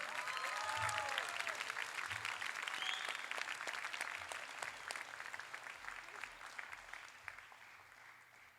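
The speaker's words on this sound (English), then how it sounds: "Another round of applause for our alumni scholarship recipients" A hall audience claps for alumni scholarship recipients at a class night ceremony, dense steady applause that slowly fades, with a few faint voices underneath.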